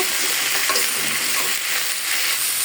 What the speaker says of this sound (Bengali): এবার আমি সিম আর আলু আর অল্প করে দিয়েছি ফুলকপি, এগুলো ভেজে নিই